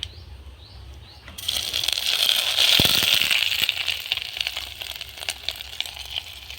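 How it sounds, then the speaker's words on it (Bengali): Dried red chilies and bay leaves hit hot oil in a wok with a sudden loud sizzle that flares and then settles into a steady crackling hiss with scattered pops. "কড়াতে শুকনো লঙ্কা তেজপাতা দেব আদা বাটা দেব"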